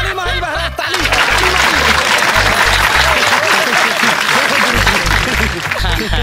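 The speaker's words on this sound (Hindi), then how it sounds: "ताली मारी भरा ताली" An audience breaks into loud, sustained applause, with scattered laughter mixed in, filling the whole stretch at close range.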